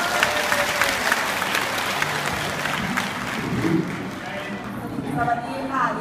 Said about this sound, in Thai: ปรบมือหน่อยครับ